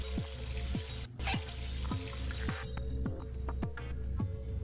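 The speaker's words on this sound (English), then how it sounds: "Twist the knob, water comes out of the faucet." Water pours steadily from an old sink faucet in the video game Zero Escape VLR, a continuous splashing stream over a repeating low background pulse, with no talking.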